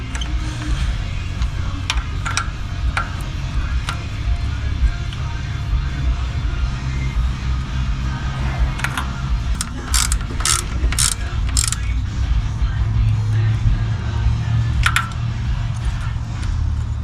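Ratchet tightening bolts on the thermostat housing of a 2002 Honda Civic, with close, continuous fine clicking over a steady background hum and a few sharper clicks in the middle stretch.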